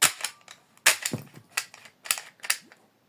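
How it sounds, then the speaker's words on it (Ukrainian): Toy Glock 18 pistol firing sharp cap-gun-like shots, about six cracks spaced roughly half a second apart, each with a short rattling tail, close and loud with no talking. "давайте я зараз буду стріляти в бік, щоб ви побачили, що в нього насправді є маленька віддача"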